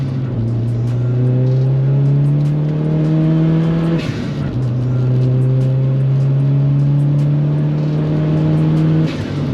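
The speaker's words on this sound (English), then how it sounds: "It makes Golf GTI noises" Engine-swapped VW Caddy with a 310 bhp TFSI Golf GTI engine revving hard, rising in pitch through two long pulls with a brief dip between, loud and close.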